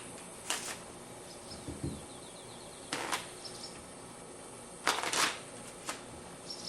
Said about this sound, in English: I'm going to shuffle them a couple more times